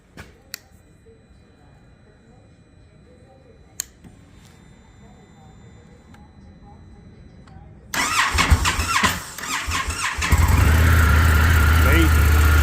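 Motor engine cranking and starting after a quiet stretch with a few faint clicks, then catching with a loud burst and settling into a close, heavy, steady running roar.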